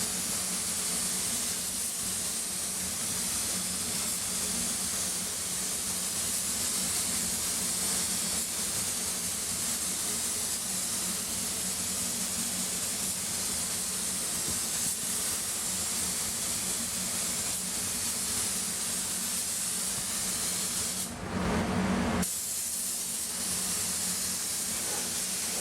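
A paint spray gun held fully open sprays a coat in a steady, loud hiss that runs on with no pause, dipping briefly near the end.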